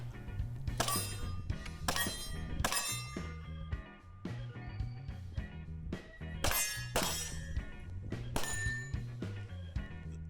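Handgun shots from a Glock 34 hit a steel spinner target at a 3-gun shooting match: a rapid, uneven string of loud cracks, each ringing with a metallic clang.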